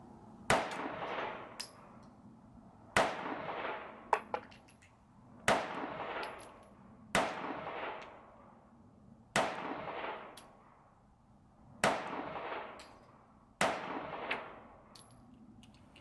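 Eight sharp gunshots from a Sig Sauer P938 pistol at an outdoor range, fired at a slow, even pace about two seconds apart, each a crisp loud crack with a short ringing tail.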